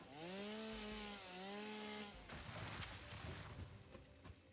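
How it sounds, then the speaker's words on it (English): Chainsaw in the video game Satisfactory, a revving engine whine rising and falling at first, then breaking into a rough, grinding cut through foliage, close and steady throughout. "More chainsaw time."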